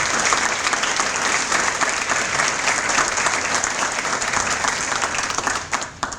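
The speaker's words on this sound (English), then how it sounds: "You should all give yourself a round of applause for that great work" Dense, steady applause from an audience at a school awards ceremony, many hands clapping at once with a faint crowd murmur, holding for about six seconds before thinning out at the very end.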